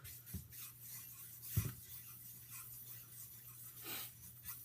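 A whetstone being lapped flat with fresh slurry, heard as quiet gritty rubbing strokes with a few sharper scrapes, close and faint, no voices.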